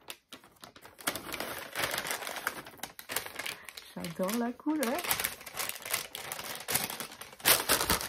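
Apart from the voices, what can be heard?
paper rustling while unwrapping gift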